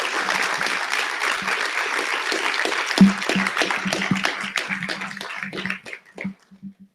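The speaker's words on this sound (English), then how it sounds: "If we can have a round of applause for the team again." A conference audience applauds a team, a dense burst of clapping that peaks sharply around the middle before thinning into scattered claps and fading toward the end.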